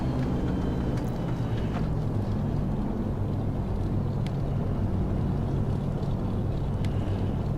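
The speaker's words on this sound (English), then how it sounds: "And left engine is spooling up." A DC-3's radial piston engine spools up in the X-Plane 11 flight simulator (VSKYLABS DC-3 add-on), producing a loud, steady, dense rumble that holds without a break throughout, with no voices.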